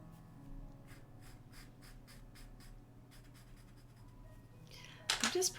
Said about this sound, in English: I'm just putting a bit of pastel pencil.